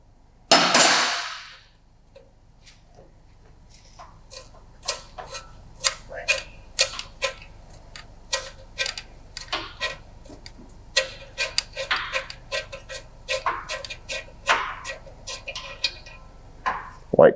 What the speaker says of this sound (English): 17mm wrench.